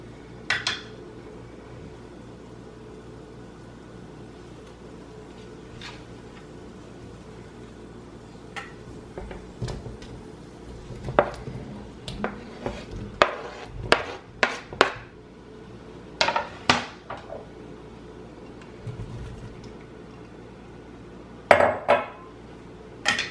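Chopped tomatoes and potatoes go into a cooking pot of softened onions for a sausage stew, a long low cooking hiss broken by scattered clatters and knocks of pieces, utensils and pot, growing busier midway.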